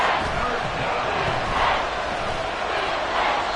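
Football stadium crowd roaring after a big play, a broad, steady wash of distant cheering that swells slightly in the middle.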